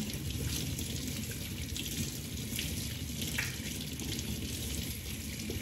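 Tap water runs steadily into a baby bath, a continuous close hiss and splash with no pauses and no talking over it.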